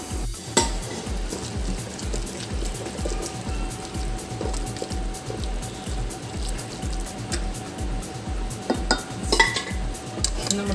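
Tripe and boiled tapioca frying with softened onions in a pan, street-stall style, with a steady dense sizzle and repeated rhythmic scraping and clanking of a spoon stirring against the metal pan throughout.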